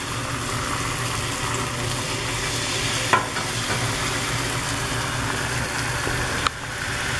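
Eggs sizzle steadily in a hot pan for SPAM hash, with a spatula scraping and stirring now and then, close and moderately loud.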